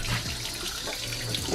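Water runs steadily from a shower as a puppy is bathed indoors, a continuous close splashing rush with no talk over it.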